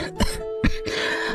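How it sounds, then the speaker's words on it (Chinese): An old woman coughs and clears her throat in two short bursts close by, with a rough breathy tail afterward and no speech. "您老人家咳嗽咳多久了？"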